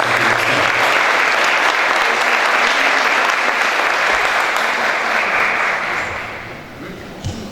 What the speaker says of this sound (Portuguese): Vamos recebê-los aí também com uma salva de palmas e agradecer pela presença dos convidados.